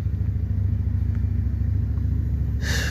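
The Kawasaki engine of a 36-inch Exmark Vantage Series 3 mower idles with a loud, steady low rumble that stays even throughout, ending with a brief brighter burst of noise.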